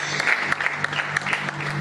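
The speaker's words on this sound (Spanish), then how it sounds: "Y le damos un fuerte aplauso al Señor." A church congregation claps together in steady, brisk applause, a dense patter of many hands filling the room at moderate loudness, with no voices over it.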